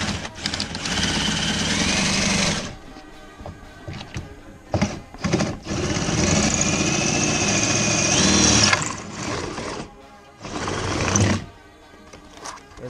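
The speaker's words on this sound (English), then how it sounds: "and start drilling our hole" A power drill with a large bit boring a hole for truck wiring, whining in several bursts with short pauses between them, loud and close, no talking.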